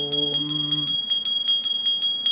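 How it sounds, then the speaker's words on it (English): A small ritual hand bell rings steadily at a quick even tempo during a worship ceremony, bright and close, and a brief sung tone fades out at the start. "Please perform it, ringing the bell."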